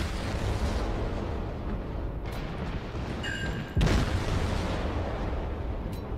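Heavy booming naval gunfire in World of Warships, a couple of deep blasts over a constant low rumble, one sharp loud shot near the end.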